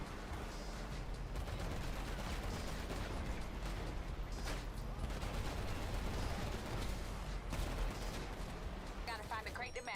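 Gunfire aimed at a train's brakes in GTA 5 Online, a dense, steady barrage of shots running the whole time at a loud, even level, with game noise and talk mixed in underneath.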